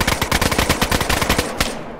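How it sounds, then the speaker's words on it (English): Rapid automatic gunfire in the video game DayZ, a dense burst of sharp, evenly spaced shots lasting close to two seconds, loud and close with no talking over it. "They're shooting me!"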